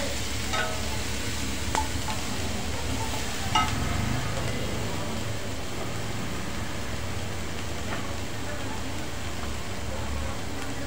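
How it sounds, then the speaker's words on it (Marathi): Chopped capsicum and onion sauté in a pan for spicy masala pav, a continuous soft sizzle with occasional clinks and scrapes of stirring, no talking. "आता आपण शिमला मिर्च कट केलेले कांदा, ते पण चांगलं परतून घेऊया"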